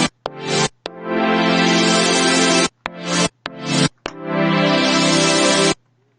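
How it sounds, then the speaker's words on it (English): Bright, dense layered synthesizers play loud sustained chords over a song's piano part, cutting off abruptly in choppy bursts and longer held swells, with nobody talking. "you have these synths I layered on top."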